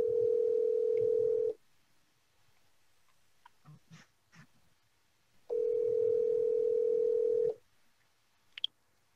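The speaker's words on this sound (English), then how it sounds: "I am calling my husband." A phone on speaker plays a ringback tone: two long, steady rings a few seconds apart, with a few faint clicks and rustles in the quiet between them.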